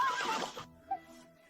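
A horse neighs in a short, bright whinny that cuts off abruptly, followed by a faint low snort or shuffle against a quiet background.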